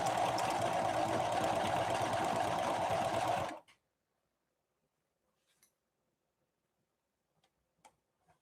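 A Singer 5808C sewing machine runs a short straight stitch, a steady, quiet mechanical whir with fine rapid ticking for about three and a half seconds, then stops abruptly, leaving near silence broken by a few faint clicks.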